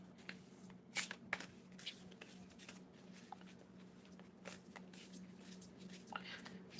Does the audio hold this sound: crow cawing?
no